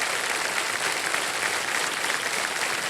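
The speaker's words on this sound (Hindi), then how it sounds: "एक बार जोरदार तालियां बज जाएं इनके लिए" A studio audience on a quiz show set applauds loudly and steadily, a dense wash of many hands clapping at once for the full stretch with no voices over it.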